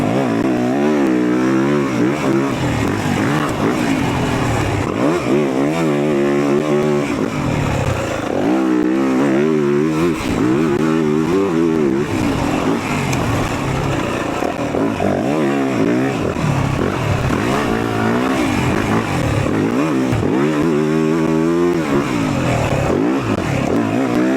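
2026 Yamaha YZ450F dirt bike ridden on a backyard sand track, its engine loud and close, rising and falling through repeated revving surges and gear changes over a steady throaty roar.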